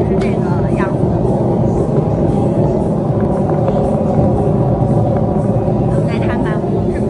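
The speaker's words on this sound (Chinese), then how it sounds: "这个静音轮胎就相当于是这个样子" Steady, loud low rumble of road and tyre noise, as in a tyre noise demonstration for a Michelin silent tyre, droning evenly throughout without letting up.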